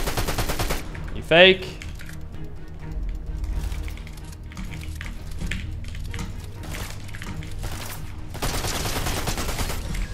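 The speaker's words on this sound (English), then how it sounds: "Who is down here shooting me?" Fortnite gunfire, rapid bursts of shots crackling at the start and again near the end, with a player talking between and over the firing.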